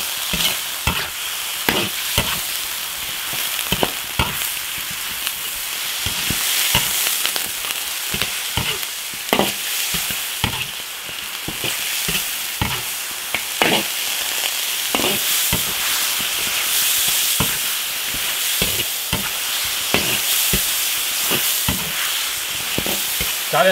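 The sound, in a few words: chicken stir-frying in a wok, rendering out its fat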